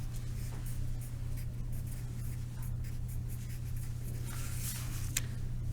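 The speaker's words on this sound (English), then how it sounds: "Okay, so I'm going to write that down." A pen writing on paper while working a cone surface area problem: soft, continuous scratching strokes under a steady low hum, faint and close.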